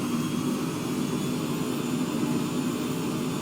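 A plane's engine revving up before takeoff with trim and flaps set in rough weather, a steady loud droning roar that holds constant without change throughout.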